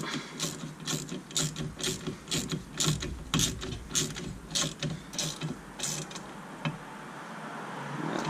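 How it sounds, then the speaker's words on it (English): A ratchet with an 8mm socket tightens a coolant expansion tank bolt on a Mini R56, giving a rapid run of close, crisp clicking bursts in a steady back-and-forth rhythm that slows near the end. "Then we get our 8mm socket again. Just do that up."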